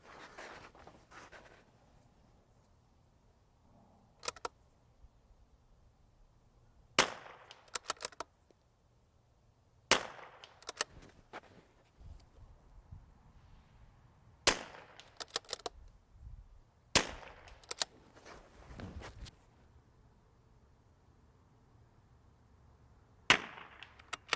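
Rimfire rifle shots during precision positional shooting, about nine sharp, fairly quiet cracks spaced irregularly several seconds apart over a faint low background hum.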